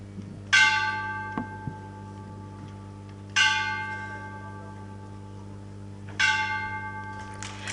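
A large bell struck three times at a ceremony, each strike ringing out loud and clear with a long, slowly fading shimmer before the next, evenly spaced in a quiet room.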